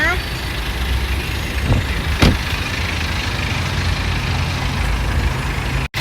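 A 2010 BMW 520d E60 with a 2.0-litre diesel engine idles close by with a continuous low, even rumble, broken by a faint tap and a sharp click near the end.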